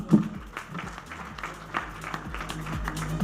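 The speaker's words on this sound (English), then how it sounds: "Can we please have a round of applause?" An audience at a panel event on customer experience gives a round of applause, a moderate, steady patter of clapping from a modest crowd with a deep electronic hum underneath.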